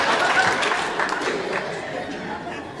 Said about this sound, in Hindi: तालियां मारो तुम लोग।